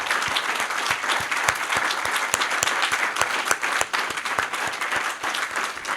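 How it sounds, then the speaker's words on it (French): A convention audience at the VIA 2023 political gathering in France gives sustained applause. Dense, even clapping fills the room for the whole stretch, with no speech over it. "puissions tous remercier par des applaudissements nourris notre équipe"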